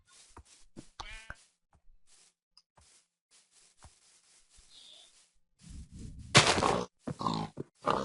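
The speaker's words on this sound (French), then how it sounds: "On va tuer le cochon." Pig in Minecraft grunting in short, scattered bursts amid soft clicks and rubbing game sounds, ending with a louder cluster of grunts and snorts.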